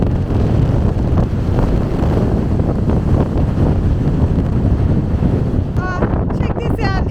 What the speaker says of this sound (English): today it is gale force winds in Port Macquarie